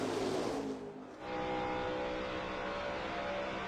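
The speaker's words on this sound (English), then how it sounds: "McMurray get down that back straightaway, getting bumped from Greg Biffle in the 16 car." NASCAR stock cars roar around Daytona during the 2010 Daytona 500, a loud sustained engine drone with a brief dip as one pack passes before the dense racing roar resumes.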